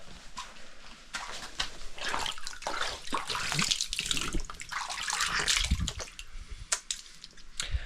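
Fresh spring water on a remote Whitsundays island in Queensland flows and splashes steadily, a close broadband gush with irregular drips and spatters and no voices.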